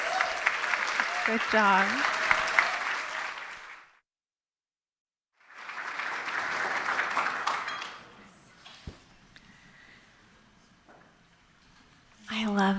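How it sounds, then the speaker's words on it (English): Audience applause at an evening awards ceremony, with two loud bursts of clapping separated by a short silence. A brief spoken remark follows before applause starts up again at the end. "One more round of applause."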